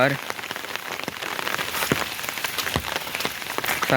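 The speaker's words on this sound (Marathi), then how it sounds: "आज आमच्याकडे भरपूरच पाऊस पडलेलो आहे" Heavy rain pours down steadily on farmland in a Konkan village, a dense, close patter of drops drumming on surfaces with no break.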